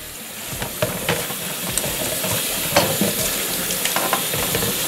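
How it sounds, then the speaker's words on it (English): Squash is rinsed under a running tap, producing a steady, close rush of water with continuous splashing and spattering that stays loud throughout. "And then I'm just gonna rinse it off."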